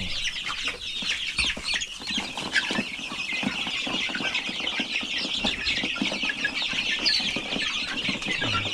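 Darag native chickens clucking and calling on a farm, a dense, steady chorus of many birds close by with occasional wing flaps and no voices over it.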